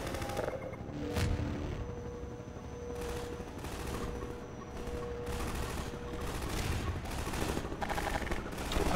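Bursts of gunfire in the first-person shooter Half-Life 2: Episode Two, a sustained fusillade of overlapping shots over a dense, noisy combat backdrop, fairly quiet throughout.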